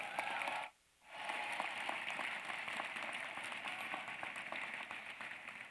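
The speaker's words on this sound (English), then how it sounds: "Give them a round of applause." Graduation convocation audience at a school of public health applauds mentors and loved ones; sustained clapping cuts out briefly near the start, then resumes as a steady, even crowd applause.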